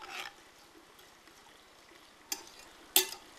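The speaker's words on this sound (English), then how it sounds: "Give that a quick stir with our knife spoon." A spoon scrapes through salted chicken in a cast-iron Dutch oven, giving a quiet stir with two sharp clinks near the end and a soft background hush.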